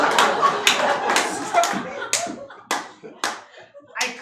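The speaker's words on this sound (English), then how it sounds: "I clapped my hands." Hand claps during an improvised murder-mystery stage show: several sharp, loud claps in an irregular burst, with voices talking over the first part.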